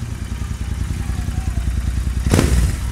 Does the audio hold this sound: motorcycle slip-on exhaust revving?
yes